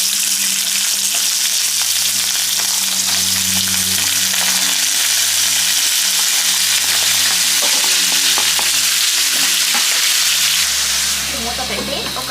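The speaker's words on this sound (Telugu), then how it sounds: "కట్ చేసి పెట్టుకున్న ఉల్లిపాయ, పచ్చిమిర్చి వీటితో పాటే గోరుచిక్కుడు కూడా వేసుకుంటున్నాను" Chopped onion, green chillies and cluster bean pieces fry loudly in hot oil in a pan, a dense continuous hiss and sizzle up close for several seconds, easing near the end, with background music and no talking.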